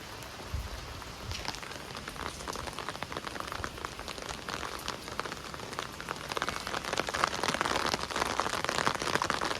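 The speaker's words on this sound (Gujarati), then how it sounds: "વરસાદ ચાલુ." Monsoon rain falls steadily outdoors, a dense, moderately faint patter of drops on surfaces that builds a little louder toward the end, with no voices.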